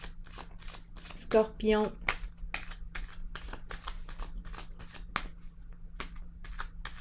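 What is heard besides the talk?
drawing and shuffling tarot cards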